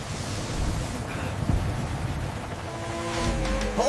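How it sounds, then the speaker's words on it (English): Strong, steady wind roars in a children's cartoon, a broad, loud rushing gust that holds and swells toward the end, with no talking. "The wind is too strong."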